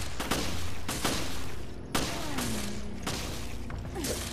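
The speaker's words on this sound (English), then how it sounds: "Keep shooting him" Gunfire from shooting at an enemy in Resident Evil Revelations: several separate, fairly loud shots spaced about a second apart over a dense game backdrop.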